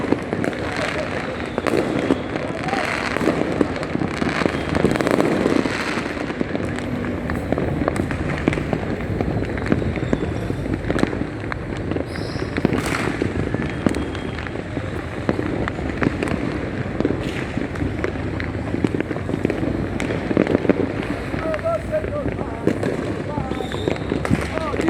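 A New Year fireworks barrage over Lima, Peru crackles and booms continuously, with dense overlapping bursts and pops at mid distance, while people talk throughout.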